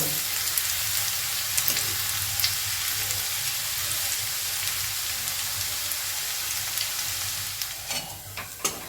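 Chopped garlic fries in oil in a pan, giving a steady close sizzle with occasional light scraping and stirring clicks, and no talking.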